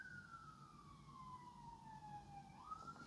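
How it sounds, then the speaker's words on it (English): A single siren wails steadily, its pitch sliding slowly downward before rising again, heard at moderate distance over low background rumble. "Sirens."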